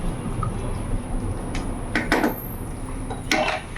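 Stirring oil-free chicken curry in a pot, with soft scraping and a few sharp metallic clinks of a utensil against the pan, close and fairly quiet.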